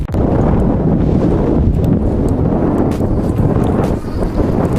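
Steady, loud wind rush buffets the microphone throughout an acceleration test on a 2024 Modoo Sports Burung-i Jumbo long-range electric bicycle at pedal-assist level 1, with only brief dips in the roar.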